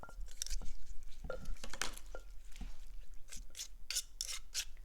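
Spoon scraping and clicking around a bowl while a Lao jeow som dipping sauce is stirred, close up, with irregular rasping strokes and bursts of gritty friction, no talking.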